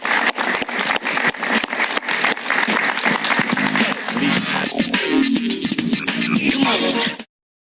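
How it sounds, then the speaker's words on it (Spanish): A studio audience on a television talk show breaks into dense, loud applause that holds steady for about seven seconds and then cuts off abruptly. "Un aplauso para él, por favor."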